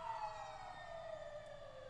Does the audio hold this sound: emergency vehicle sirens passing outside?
yes